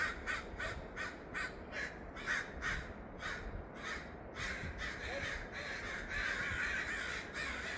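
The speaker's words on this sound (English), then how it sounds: "These are crows." Several crows at Grayland Beach caw loudly in a rapid series of harsh calls, nearby and fairly steady, with a soft background hum.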